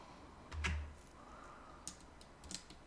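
A few soft, close clicks from a computer mouse during work in Maya 3D software, a single right-click followed by a couple more light taps in a quiet room.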